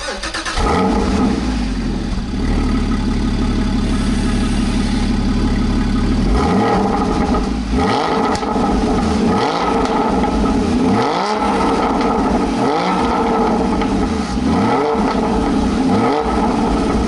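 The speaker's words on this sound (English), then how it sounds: "if I start the car up, you'll get an impression of what it's like." A 2016 Porsche GT4 engine cranks and catches, then idles with a deep rumble before being revved repeatedly in short, rising bursts.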